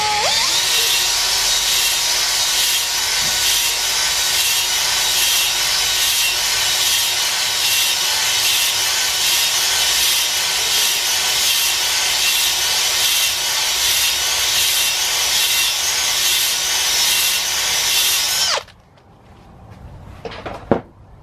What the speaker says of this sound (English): this is gonna be my first time honing a block out